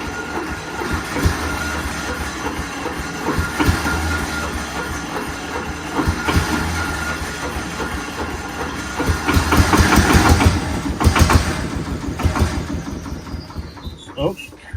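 A Flintstone Mobile replica's engine runs in a low, rough rumble for about fifteen seconds, revving up louder near the middle before easing off, with people talking over it.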